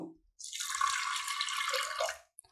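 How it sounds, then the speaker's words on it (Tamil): Water poured over chana dal in a pressure cooker, a single close, loud, hissing splash lasting about two seconds, with a short clink at the end. "கடலைப்பருப்பு முழுகிற அளவுக்கு தண்ணி ஊத்தினா போதும்"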